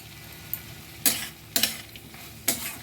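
Fried bitter gourd and lentil dumplings (bori) are stirred in a pan with boiled bitter gourd and potato, giving a low frying sizzle broken by three sharp utensil scrapes and clacks against the pan.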